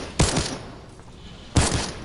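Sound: gunfire from a video game custom game mode

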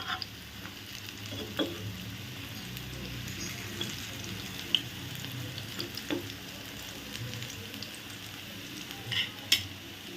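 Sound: frying coriander leaf fritters in a frying pan

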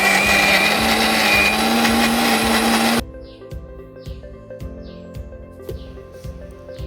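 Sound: mixer grinder grinding soaked lentils into paste

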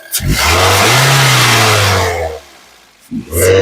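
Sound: Toyota Corolla Altis 2011 engine revving

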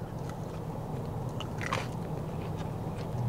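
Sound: biting into fried chicken with crunchy skin

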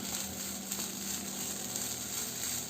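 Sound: vegetables sizzling in pan, mixing in coriander leaves

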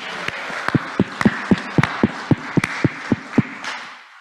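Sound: congregation applause

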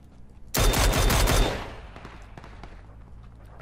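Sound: distant gunfire in a video game

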